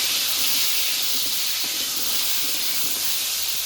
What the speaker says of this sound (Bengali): এবার মেরে ছেড়ে আলুগুলোকে ভালো করে ভেজে নেব